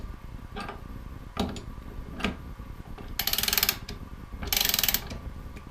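A wrench ratchets to tighten the bit in a Festool OF 1400 router, giving fast clicking bursts interspersed with a few louder metallic clicks, close and clear with no talking.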